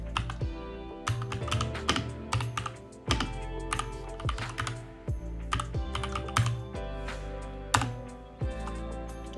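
Typing on a Mac computer keyboard, close and steady: clustered key clicks and heavier keystrokes over a faint hum, with no talking.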